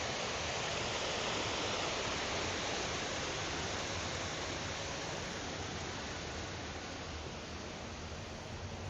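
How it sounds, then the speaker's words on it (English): Water fountain running outdoors in St. Louis, a steady broadband rush of falling and splashing water, even and continuous throughout at moderate level, no voices. "Pretty water fountain."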